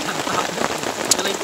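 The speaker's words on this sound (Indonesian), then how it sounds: "Sekarang pun di pos 4 masih hujan." Heavy rain pours steadily at a mountain trail shelter on Mount Ciremai, a dense continuous hiss filling the whole stretch with no talk over it.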